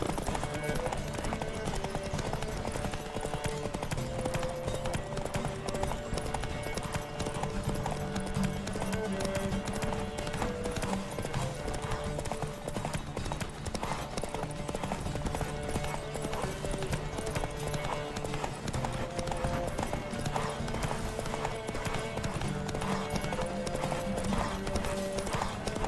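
Horse hooves clip-clop at a steady galloping rhythm throughout The Witcher 3, with a whinny and game music running continuously underneath.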